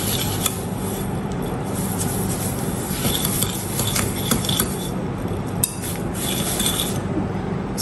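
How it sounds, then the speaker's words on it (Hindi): Butter and sugar being mixed together in a bowl for banana chocolate bread batter, a steady close scraping and stirring with occasional light clinks against the bowl. "बटर और शुगर को हम मिक्स करेंगे अच्छे से"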